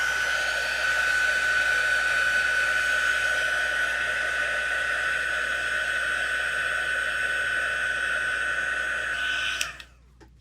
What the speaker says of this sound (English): We'll just grab our heat gun and heat emboss this until it's nice and melted